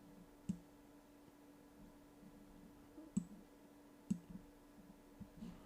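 A computer mouse clicks a few times, sparse and isolated sharp ticks spaced a second or more apart, quiet and close over a faint steady hum, while editing a picture in Microsoft Word.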